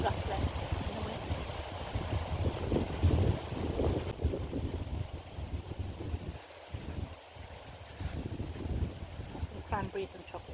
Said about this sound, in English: You hear the trees rustling in the wind.